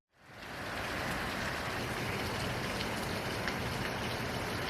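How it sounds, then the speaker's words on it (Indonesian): Heavy rain comes in abruptly and settles into a dense, steady hiss of downpour, loud and unbroken, with no voices over it. "beneran hujan deras dong"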